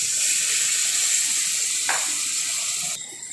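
Spice paste for chicken chana masala sizzles in a hot pan after water is poured in, a steady bright hiss with a brief splash partway through, then the sizzle drops off near the end.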